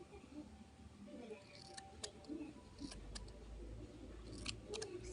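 Scissors snip through the top of a foam boba tea squishy in a few sharp, close clicks, scattered over a soft background hiss.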